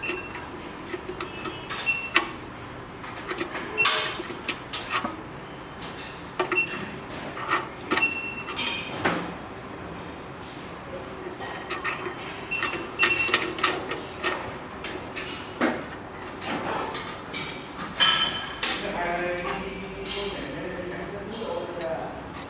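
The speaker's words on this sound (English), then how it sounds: "SCC9 is now decoding the original key data." An SEC-E9 key cutting machine decodes a Schlage house key held in a single-sided clamp. Irregular close clicks, clinks and short mechanical whirs sound as the machine works, with a few brief tonal beeps near the end.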